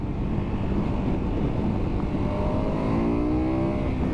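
A KTM 1290 Adventure motorcycle accelerates hard, a steady loud engine roar rising in pitch toward the end, heard up close amid wind rush.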